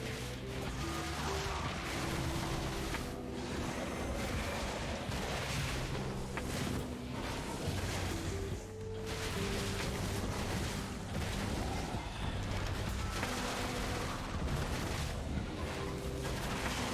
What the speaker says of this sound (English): jump in there and blow yourself up